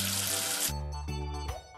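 A kids' number-washing game plays a short synthetic rinsing sound as soap is washed off with water, a bright hissing wash that cuts off into tonal chimes over steady background music.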